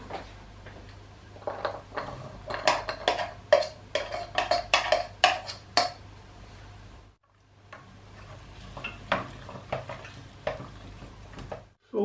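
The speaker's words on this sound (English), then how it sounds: "saute gently for 20-25 minutes until they are soft and lightly coloured" Onion and carrots sauté gently in a pot, with repeated scraping stirs and soft sizzling in bursts over a steady low hum, going quieter partway through before the stirring picks up again.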